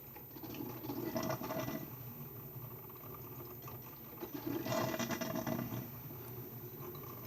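A new Mr. Coffee coffee maker brewing, with soft gurgling and hissing water bursts in two louder surges, heard close and fairly quiet.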